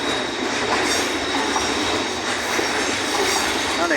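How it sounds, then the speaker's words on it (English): A DB Schenker Class 66 locomotive hauls aggregate wagons past in sleet, giving a steady, broad rolling rumble with wheel noise and faint squeal, fairly close and continuous throughout. "this one is a Schenker hauling aggregate wagons."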